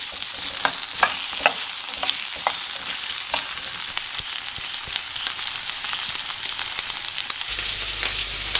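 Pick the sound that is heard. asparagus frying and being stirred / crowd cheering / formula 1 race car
asparagus frying and being stirred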